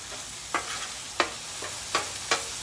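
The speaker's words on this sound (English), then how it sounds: "The meat is cooking up real good." Ground beef hamburger frying in a pan for beef stroganoff, a steady sizzle punctuated by four sharp spatula scrapes and stirs spaced about half a second apart, close and clear.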